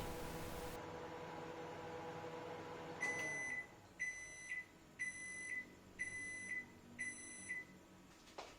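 A microwave oven melting butter hums steadily for about three seconds, then sounds five evenly spaced electronic beeps in a quiet room.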